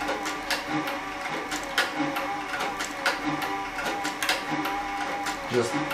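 Cowboy CB3200 leather sewing machine, a saddle and harness stitcher, sewing leather: a rapid mechanical rhythm of repeated needle clacks and motor whir, close up, stopping and starting, with a voice speaking over it.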